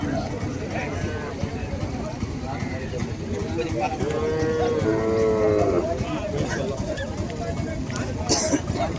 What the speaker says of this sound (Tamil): ஸோ ஒரு செவல நிறம் மாடுங்க.